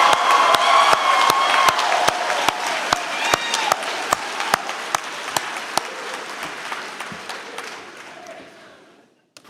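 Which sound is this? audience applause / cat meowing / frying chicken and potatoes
audience applause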